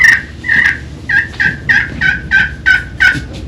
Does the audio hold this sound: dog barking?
no